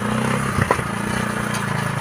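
A customized motorcycle rigged to pull a plow through a field, its engine running with a steady low droning pulse, close and loud, with a few brief clatters and scrapes from the plow and no talk.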